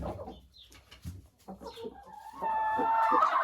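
Old laying hens cluck and call in a farmyard coop, several birds close by with irregular bursts, building into a louder, sustained run of calls at the end.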